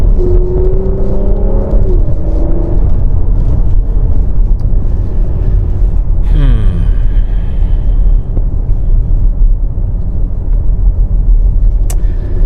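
A 2022 Porsche Macan S petrol SUV drives along, its engine droning and shifting pitch up and down inside the cabin, with a steady loud road rumble underneath.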